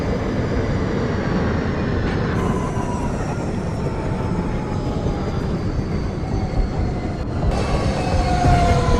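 An R160 Siemens E subway train in the OpenBVE simulator runs along the line toward Jamaica Center, with steady loud rumbling, clattering wheels and rising motor whine, plus a brief tonal shift midway.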